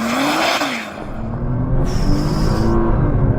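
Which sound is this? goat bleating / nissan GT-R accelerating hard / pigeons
nissan GT-R accelerating hard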